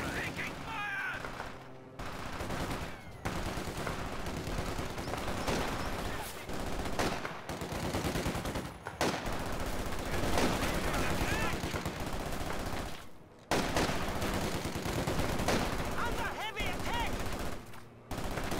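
Dense, continuous gunfire fills a World War II battle in the video game Company of Heroes 2. Machine-gun bursts and rifle shots overlap in a loud, busy mix, with shouted soldier voices under the shooting.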